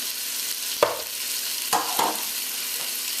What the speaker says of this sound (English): Now we're going to add the chopped shadow benny.